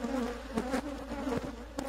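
A dense, steady drone of many defensive African honey bees buzzing close by in Kenya, a continuous hum with slight wavering throughout.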